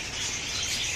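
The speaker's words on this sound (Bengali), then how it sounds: "অনেক সুন্দর বাজারিকা পাখি, এই যে দেখুন" Many pet budgerigars chirp together in a shop aviary, a dense, busy chatter of high twittering that never pauses.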